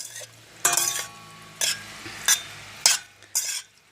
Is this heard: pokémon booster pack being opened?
no